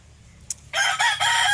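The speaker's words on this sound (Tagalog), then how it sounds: "may tumutilaok na manok" A rooster crows loudly and close by, a single drawn-out call after a brief sharp sound.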